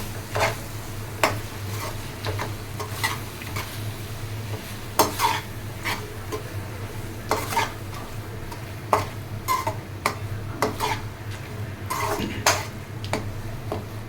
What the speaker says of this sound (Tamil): இதை நல்லா வணக்கிக்கலாம். ஒரு 5 நிமிஷம் நல்லா வணக்கிக்கலாம்